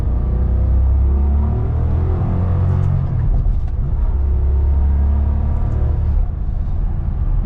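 A Maserati coupe's engine rumbles loudly and steadily close by as paddle-shift downshifts step down through the gears toward second, the low droning holding throughout.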